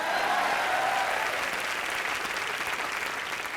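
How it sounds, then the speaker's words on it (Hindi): Studio audience at a live comedy show breaks into sustained, dense clapping, loud from the start and easing slightly as it carries on without any voices over it. "हाँ क्या, ताली मारो।"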